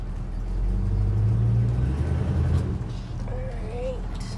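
A 1985 GMC High Sierra truck with an automatic transmission drives at low speed, its engine giving a steady close rumble that swells and then eases, with brief talk over it.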